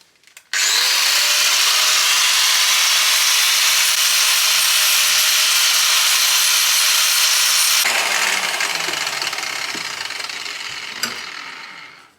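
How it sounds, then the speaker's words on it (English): An angle grinder squares off the cut ends of steel exhaust tubes for a Porsche 928, giving a loud, steady, high-pitched grinding whine that runs for about seven seconds, then drops in pitch and trails off as the disc winds down. "What I do is just grind those off so they're nice and square, or at least flat,"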